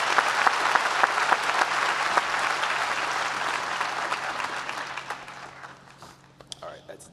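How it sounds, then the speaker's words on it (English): An audience at a 2018 Babson College undergraduate graduation ceremony breaks into loud, sustained applause with dense clapping from a large crowd, tapering off toward the end. "you also deserve a round of applause."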